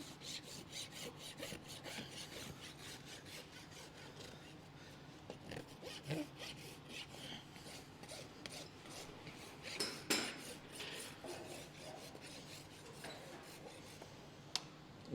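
A rasp filing a horse's hoof during a barefoot trim, bevelling toward the heel: repeated rhythmic scraping strokes, fairly close but quiet, with a few sharper knocks near the end.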